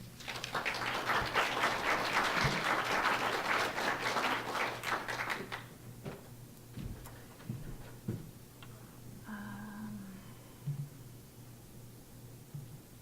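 An audience claps for about five seconds to welcome a speaker to the podium, steady and moderately loud, then the applause fades into quiet room tone with a few soft knocks and a brief tone.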